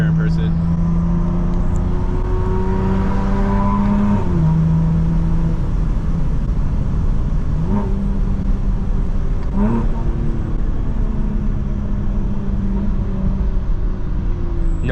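A BMW G82 with an S58 engine and a valvetronic exhaust revs repeatedly, the engine climbing and dropping in loud, close sweeps over a deep continuous rumble.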